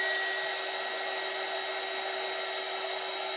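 A small handheld dryer costing about ten dollars blows with a constant high whine and airy hiss, close and steady the whole time, with no talking.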